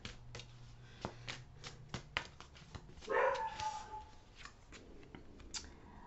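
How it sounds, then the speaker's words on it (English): A dog barks at night, a brief muffled bark or two sounding somewhat distant and faint, set among quiet tapping and shuffling noises close by. "I don't know what my dog's barking at now."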